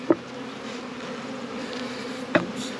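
Honey bees hum in a steady, close drone while a hive is opened for inspection. Two brief knocks break the buzz and no one speaks.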